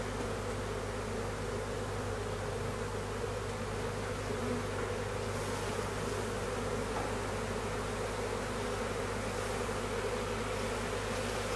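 Dense, continuous hum of a honeybee swarm during swarming, many bees droning steadily together at close range, unbroken for the whole stretch with no voices.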